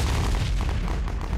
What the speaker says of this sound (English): By now, machine gun bullets are smashing against the tank.